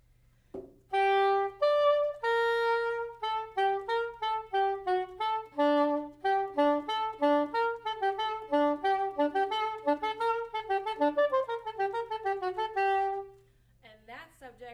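A solo saxophone plays a lively melodic line of quick, detached notes, clear and close, for about twelve seconds before stopping.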